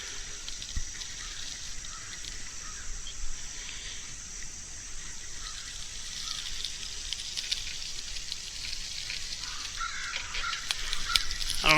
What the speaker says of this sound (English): I don't know if you can hear the crows behind me or not, but they've been very active today too.